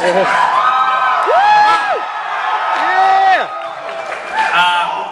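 A packed convention panel audience at the Javits Center in New York screams, whoops and cheers loudly and continuously, with rising and falling shrieks over steady crowd noise.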